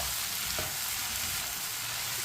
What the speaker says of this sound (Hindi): अब इसे 3 मिनट के लिए इसी तरह चम्मच चलाते हुए मीडियम आंच पर इसे भून लेंगे